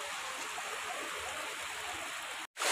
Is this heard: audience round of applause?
no